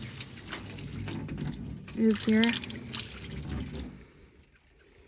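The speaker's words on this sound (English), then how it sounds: "So I just made up some bleach water. I'm gonna pour it on these" Bleach water poured onto a calf pen floor where a sick calf had bloody diarrhea, a steady liquid trickle and splash on the ground under a man's nearby speech, strongest midway before tapering off.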